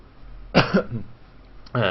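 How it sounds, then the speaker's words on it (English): A single short burst of coughing up close, followed by a pause and then the start of another cough. "I'm done coughing."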